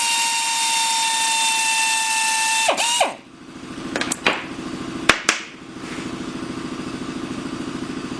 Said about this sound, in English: It drills very nice.